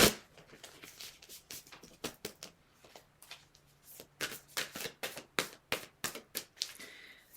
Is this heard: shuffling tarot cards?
yes